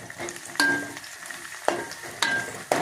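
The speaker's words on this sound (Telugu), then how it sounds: "ఉల్లిపాయలు ఎంతవరకు వచ్చినాయో చూద్దాము అదిగోండి వేగుతున్నాయి చూడండి" Onions fry in a pan with a steady close sizzle, broken by a few sharp clanks and stirring knocks from utensils, with no voices.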